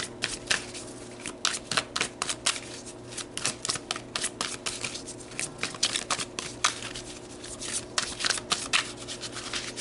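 Tarot cards are shuffled by hand in a quick, continuous run of riffling and flicking bursts, close and fairly quiet, with no talking.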